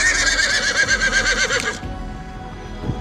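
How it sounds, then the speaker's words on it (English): Horse whinnying loudly and close, a shrill quavering neigh lasting under two seconds that breaks off and leaves a quiet tail. "a mare may whinny to locate her foal"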